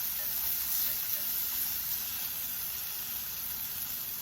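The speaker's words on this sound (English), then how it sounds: "And let them saute or fry" Scallops sauté in a hot frying pan, a bright continuous sizzle and hiss, close and fairly loud, steady for the whole stretch with no speech.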